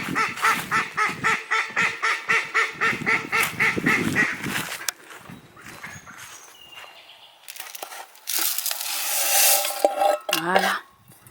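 Ducks quacking and honking in a farmyard while being fed, with rhythmic pecking and clattering sounds at first, then a quieter stretch followed by louder, overlapping calls near the end.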